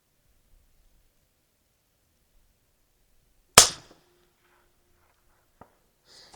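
A single sharp rifle shot from a 24-inch bolt-action AR-15 cracks out loud and close after several seconds of near silence, followed by a brief ringing tail and a faint distant knock.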